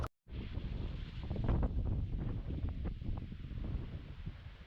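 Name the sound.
strong wind at a mountain summit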